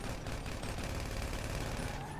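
Dense rapid gunfire from multiple weapons in GTA 5 video game, a continuous crackling fusillade at steady loudness throughout, no speech.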